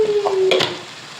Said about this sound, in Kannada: ಟಮಾಟೆ ಹಣ್ಣು ಕೂಡ ಫ್ರೈ ಆಗಬೇಕು.